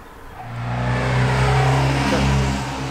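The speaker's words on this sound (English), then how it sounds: "So there's so much traffic going through." A motor vehicle passes along a village street in Hartfield, East Sussex, its engine swelling as it approaches and fading slightly as it goes by, close and fairly loud.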